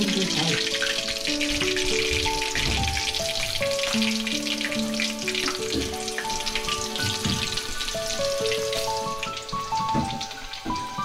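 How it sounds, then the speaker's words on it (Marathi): Onion sizzles and fries in a pan while cooking a crab curry, a continuous crackling hiss with scattered pops and spits, accompanied by steady tonal ringing that runs underneath before the sizzle eases slightly toward the end. "कांदा फ्राय करून घ्यायचा आहे ना"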